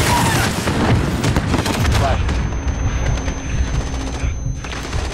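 Dense gunfire and explosions in Call of Duty Modern Warfare, rapid bursts and heavy booms stacked loudly together, then thinning out toward the end.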